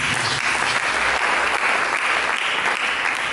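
A church congregation applauds during a sermon, a dense and loud burst of clapping that fills the space evenly from start to finish.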